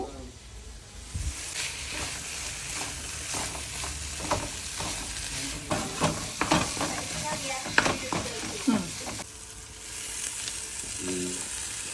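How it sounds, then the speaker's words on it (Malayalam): Chicken coated in masala paste sizzles and fries in a pan for a Kerala-style country chicken curry, with steady crackling hiss and repeated scraping stir strokes close by, a brief pause near the end before the sizzle resumes. "mixing the masala and chicken"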